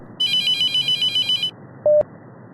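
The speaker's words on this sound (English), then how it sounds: "the phone rang" Telephone ringing inside a mortuary in the horror video game The Mortuary Assistant: a loud electronic ring pulses rapidly for over a second, then after a pause a single short tone sounds, heard alone over a low background hum.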